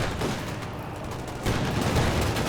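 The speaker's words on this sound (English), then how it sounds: "Reaction squad firing away." Squad gunfire in Company of Heroes 2, a dense sustained rattle of rifle and machine-gun shots in a busy battle soundscape that grows louder and heavier partway through.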